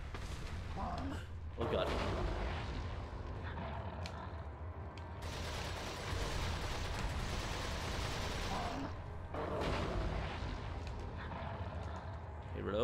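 Rapid TMP submachine gun fire in Resident Evil 4 HD, dense bursts of game gunfire mixed with loud impacts and game audio, with a voice speaking briefly over it.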